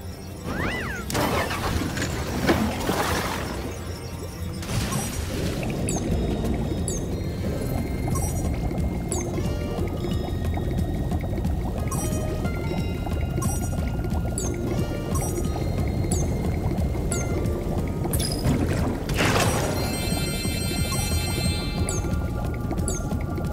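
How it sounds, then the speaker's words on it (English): An old submarine ride in Spyro Year of the Dragon gives a steady, loud underwater engine rumble with bubbling, sloshing water and scattered clicks and chimes throughout, with no one talking. "I just finished fixing up an old submarine. Why don't you try taking it for a spin?"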